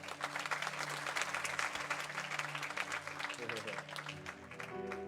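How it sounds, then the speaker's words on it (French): Church congregation applauding during a French-language worship service, with steady dense clapping across the whole stretch, low music or organ tones sustained underneath and some voices mixed in. "Vous pouvez acclamer pour vous-même."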